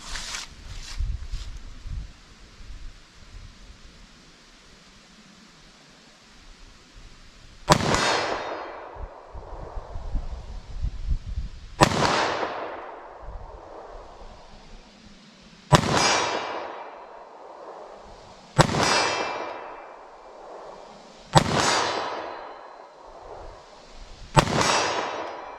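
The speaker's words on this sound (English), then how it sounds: "I'll try to fire slow, try to actually hit the target the best that I can. So let's see what I can do with our 9mm." Slow, evenly spaced 9mm pistol shots fired at a target 40 yards out, about six sharp loud reports with ringing decay, preceded by quieter handling noise and faint clanks.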